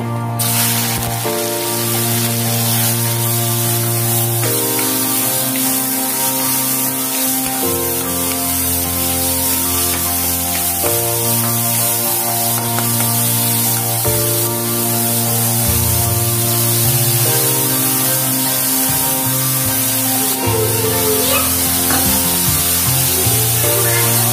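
A ground paste of onion, green chili and garlic sizzling in hot oil, a loud, dense crackling hiss that holds steady and close throughout.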